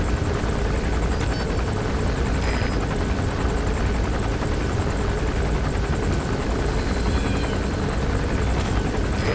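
A helicopter patrols overhead in the Metal Gear Solid V video game, its rotor thrum a constant, dense roar that holds steady and loud without a break.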